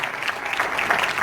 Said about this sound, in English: So give yourselves a round of applause today for Dilla